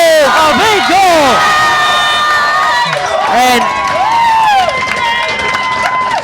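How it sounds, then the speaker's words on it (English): Crowd at a girls' field hockey quarterfinal game erupts in loud, sustained cheering and shouts after a goal, with excited voices rising and falling throughout, while a commentator speaks over the roar. "The crowd is going nuts."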